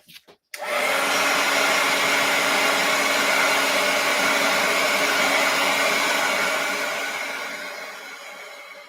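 A hair dryer blows over a freshly painted art journal page, switching on abruptly after a brief clatter and running as a steady, loud, close whoosh that eases slightly in the final seconds.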